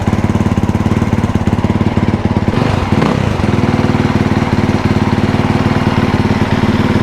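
An engine turns over and settles into a steady, loud, close idle, its chugging rhythm running unbroken with a brief rougher burst near the start.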